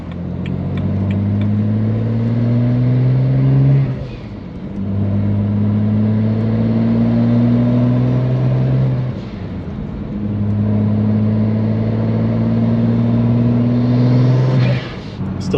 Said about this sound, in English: those turbos in person are so loud. The blow-off valve releasing all that pressure is just insane.